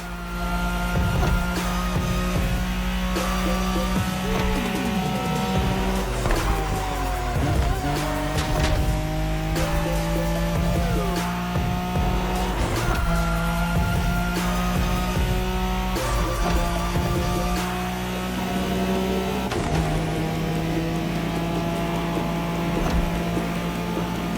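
A Nissan Skyline races in The Crew Motorfest, its engine droning loudly and steadily with repeated rising and falling gear-change pitches and bursts of tire squeal through corners, no voices over it.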